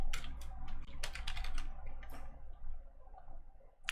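Rapid computer keyboard typing, a quick burst of close, crisp key clicks that thins into a few scattered taps, with no talking.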